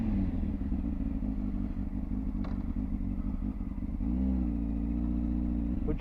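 A motorbike engine starts up and then settles into a steady idle, running loud and close and continuing alone throughout, with a slight rise in revs near the end.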